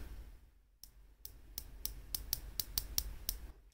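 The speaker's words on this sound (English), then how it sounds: "So it's kind of that high pitch clicking." The 120-click unidirectional bezel of a San Martin SN0138G watch is turned in about ten crisp, sharp clicks. They come quickly and close up after a brief silence, with no voices.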